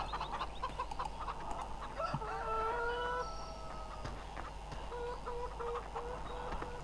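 Chickens cluck inside a coop in the farming game Farming Simulator 15, a few short clucks and drawn-out calls over a quiet steady background hum, fairly soft and close.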